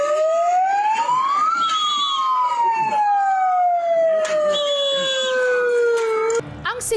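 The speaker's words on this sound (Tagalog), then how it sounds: "Paminsan-minsan, ang ingay ng mga dumadaang ambulansya." A passing ambulance siren near a landslide rescue site wails loudly, its pitch climbing then sliding slowly downward as it goes by, with a brief word spoken at the end.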